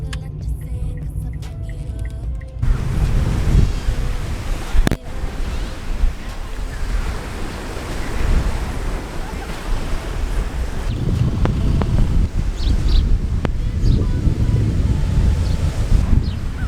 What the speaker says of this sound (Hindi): काफ़ी विंडी है